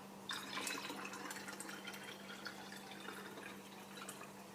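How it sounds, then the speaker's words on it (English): Quiet trickle of tap water filling a half-full bottle of vinegar in a kitchen, a soft steady splashing stream with faint drips over a low constant hum. "So half a bottle, what I'll try to do is just top it up with water."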